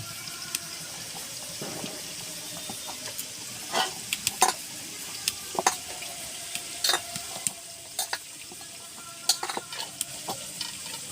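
Mini mughlai filling being mixed by hand with salt and black pepper powder, soft wet squelching and stirring with scattered sharper clicks and taps, close and fairly quiet, no talking.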